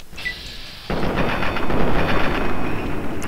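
Gunfire in Fallout 3: a sudden loud burst of rapid shots kicks in and keeps rattling without a break, with a steady electronic tone running through the background.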